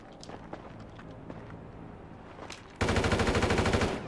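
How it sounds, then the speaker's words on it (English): Gunfire in a GTA 5 rooftop deathmatch: scattered faint shots and steps, then a loud, dense rapid burst of automatic fire rattling in a steady pulse over the last second or so. "Oh, I heard the bullets coming as well there."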